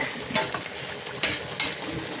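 Onions fry in a pan for chicken sukka, a continuous bright sizzle with a few spoon scrapes and clinks against the pan, close by and with no talking.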